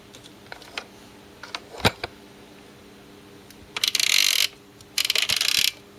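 Adjustment collar on a Breville Dose Control Pro coffee grinder gives a few sparse, sharp clicks, then two longer bright bursts of ratcheting rattle, close and alone with no voices.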